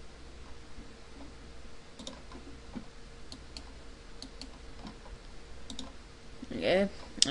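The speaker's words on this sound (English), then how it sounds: "you click on titles and credits" Computer mouse clicks while working in Windows Movie Maker, several light, sharp ticks spaced irregularly over a quiet background, with a brief louder burst of noise near the end.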